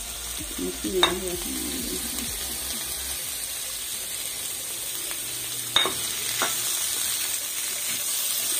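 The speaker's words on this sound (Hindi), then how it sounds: "1 मिनट के लिए इसको भूनते हैं।" Boiled chicken and vegetables, including cabbage, sizzle steadily in a hot pan while a utensil scrapes and stirs now and then, with a couple of sharp clinks.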